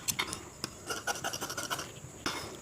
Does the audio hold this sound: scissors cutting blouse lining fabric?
yes